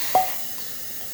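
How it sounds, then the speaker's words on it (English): A La Pavoni lever espresso machine's steam wand, just serviced and tuned up, lets out a sharp burst of hiss followed by a steady, loud, even steam rush. "It's a nice powerful steam."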